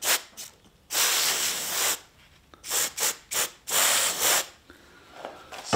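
Silicone oil is rubbed onto a gun bolt in short, close strokes. Several brisk hissing wipes come in bursts of about a second, separated by brief pauses.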